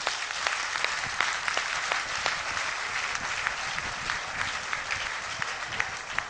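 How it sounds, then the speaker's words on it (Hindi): An audience at a gathering claps steadily for a group of girls, with continuous applause that has individual sharp claps standing out, moderately loud throughout. "सबसे पहले तो इन बेटियों की हौसला अफजाई के लिए तालियां हो जाए।"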